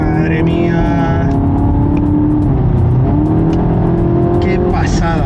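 Volkswagen Golf GTI Clubsport with a 2-litre engine accelerating from inside the cabin, a steady loud engine drone rising in pitch under continuous talk.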